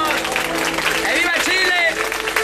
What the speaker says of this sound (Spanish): Un aplauso para la acordeonista.